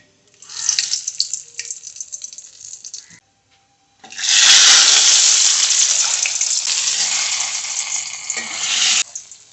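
Curry leaves and mustard seeds hitting hot oil in a Kerala kitchen: a sharp burst of crackling, then a quieter gap, then a loud sustained sizzle that spits and hisses for several seconds before cutting off.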